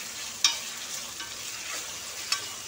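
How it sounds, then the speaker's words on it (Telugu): Ivy gourd (dondakaya) pieces fry in a pan with a steady, even hiss, broken by two small sharp clicks, close and fairly quiet. "సో దొండకాయ ముక్కలు వేగాలి"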